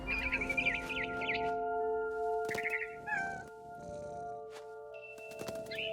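A cat in a video game meows repeatedly in short, tonal, wavering cries with gaps between them, close and fairly clear over a quiet ambient backdrop with steady sustained tones.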